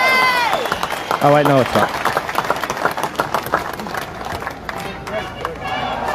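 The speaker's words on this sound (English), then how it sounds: "Give yourselves a massive big round of applause, Australia!" An outdoor crowd at a March for Australia rally claps and cheers, a broad, busy wash of applause and shouts running beneath a nearby voice that speaks briefly.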